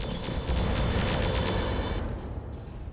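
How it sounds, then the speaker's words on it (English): Ammunition explosion on a mech in the battle game RogueTech, a dense, sustained rumbling blast with low roar and crackle lasting a couple of seconds before thinning out, loud and close with no talking. "Oh, ammunition explosion."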